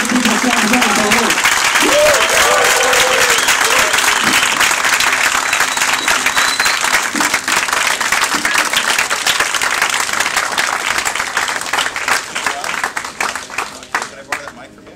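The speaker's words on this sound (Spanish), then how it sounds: "Un aplauso por pasar acá, por favor." Audience at a Startup Grind event in Lima applauds to welcome speaker Paul Ahlstrom onto the stage. Dense, sustained clapping fills the room for about fifteen seconds and thins out near the end, with a few voices briefly heard early on.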